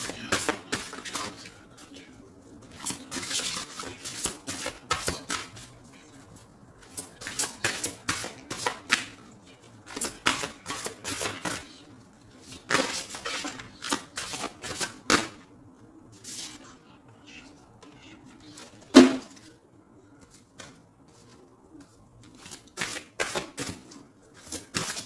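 Oracle cards shuffled by hand, repeated bursts of soft riffling and slapping in quick clusters separated by short pauses, close and fairly quiet.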